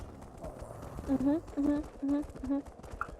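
Rhythmic hollow hoof clip-clops from several horses walking, with soft game-like ambience and faint chirps underneath.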